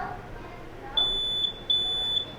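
A high electronic smoke alarm, set off by food left on a stove, beeps in two sustained bursts, sharp and piercing, over a faint background hum.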